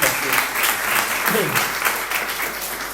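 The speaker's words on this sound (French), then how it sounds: "Combien nous pourrons applaudir aux frères et sœurs et au Seigneur aussi" Steady applause from a church congregation, dense clapping that fills the whole moment at a constant, fairly loud level.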